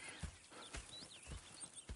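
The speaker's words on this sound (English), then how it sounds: "Go check the horses are ready." Horses clip-clop in Red Dead Redemption with a handful of spaced, hollow hoof knocks, faint and fairly close, while short whistle-like tones sound in the background.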